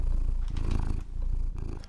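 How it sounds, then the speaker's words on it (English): A cat purring in the Dwarf Fortress video game, a steady close rumbling purr that continues for about two seconds, with a short dip partway through. "a cat just adopted a dwarf, as you can tell by the purring noise"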